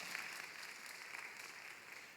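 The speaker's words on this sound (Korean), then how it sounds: "우리 다시 한번 축하의 박수를 하도록 하겠습니다." A church congregation applauds in celebration of a wedding during a Sunday youth worship service, a soft, steady wash of many hands clapping that stays faint and distant throughout.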